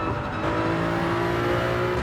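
A Toyota Supra race car in Gran Turismo 7 holds a loud, steady engine drone with a faint rising whine as it drives through a corner.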